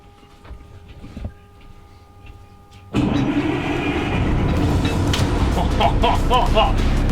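After a few seconds of quiet with small clicks, a boat's diesel engine starts abruptly after preheating and keeps running loud and steady, with rattling knocks over the rumble.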